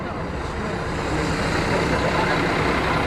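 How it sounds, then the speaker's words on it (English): A large coach bus pulls away on a road in Jordan, its low engine drone building steadily and continuously amid traffic noise, heard from inside the vehicle. "So the bus is set off again"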